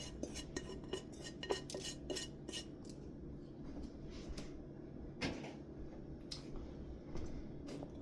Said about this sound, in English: And just kind of scooch them around on the pan.